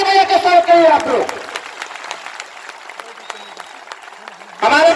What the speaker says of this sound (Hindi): जोरदार ताली बजा के स्वागत करिए आप लोग